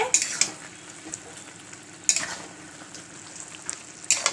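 Spatula stirring roasted ground spice into raw mango murabba in a pan, soft sizzling and scraping with a few sharper clinks of utensil against the pan at regular intervals, close.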